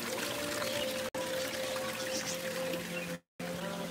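Cold water pours steadily in a garden in Yarka, Israel, a continuous close splashing stream that briefly cuts out twice.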